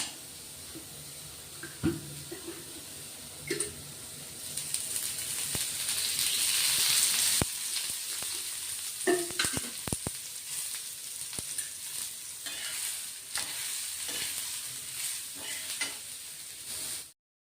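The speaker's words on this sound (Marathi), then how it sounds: "कांदे भाजताना ना आपण थोडा तेलाचा वापर करणार आहेत आता, म्हणजे कांदे लवकर भाजले जातात" Onions frying in a little oil in a pan for a red chickpea masala, sizzling steadily up close while a spoon scrapes and stirs at irregular intervals.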